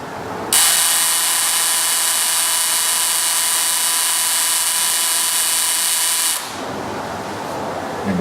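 A homemade pulse motor runs with a spark gap, giving a steady loud buzzing hiss with a high whine that starts abruptly, holds evenly for about six seconds, then cuts off.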